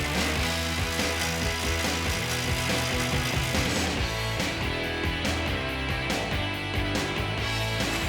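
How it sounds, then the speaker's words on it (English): A ratchet socket wrench with an 18mm socket works the lower sway bar link bolts on a 2007-2018 Jeep Wrangler JK, clicking in fast, steady bursts with brief pauses, loud and close, no talking. "we're going to remove the lower sway bar link bolts using an 18mm socket and wrench."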